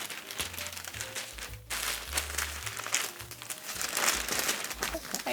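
Crinkly paper packaging around a silk robe crackles and rustles in bursts as it is carefully unwrapped close by, with someone talking over it.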